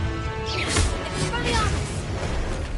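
Two spell casts from the Hogwarts Legacy video game, Incendio then Confringo, bursting and booming loudly in quick succession over dense game effects, with talk underneath.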